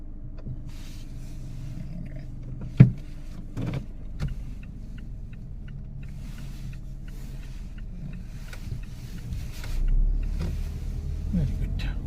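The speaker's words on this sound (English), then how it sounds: "move off your car from here." A car pulls away from the curb during a driving lesson, its engine a low steady hum that swells slightly as it moves off, with a sharp knock early on and people talking over it.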